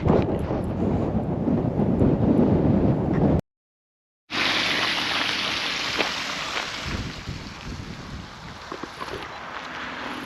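Strong wind buffets the microphone outdoors at a waterfall site, a loud continuous rumbling roar that drops out briefly, then returns steadily with no talking.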